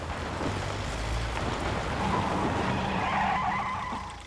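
A vehicle in the battle royale game PUBG skids to a stop, a steady rough tire scrape and rumble lasting several seconds that slowly fades at the end.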